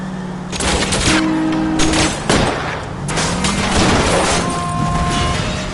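Rapid gunfire aimed at the tires of a fleeing car during a chase in L.A. Noire, dense bursts and booms over a running engine, loud and continuous without pause.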